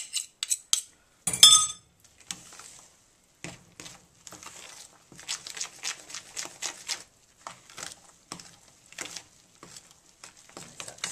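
A spoon clinks and scrapes in a bowl while mixing pineapple upside-down cake batter with soda water, an irregular run of light taps and stirring scrapes, close and clear with quiet gaps.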